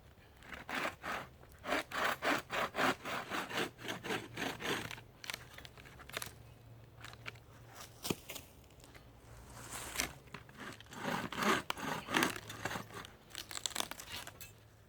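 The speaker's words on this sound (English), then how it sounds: "I'll use the bow saw, really simple tool, safe if you use properly, and this will be so much more easier to actually begin to cut this wood" Firewood being cut with a bow saw outdoors: steady rhythmic back-and-forth rasping strokes, close and moderately loud, with a short pause midway before a second run of quicker strokes, and no talking.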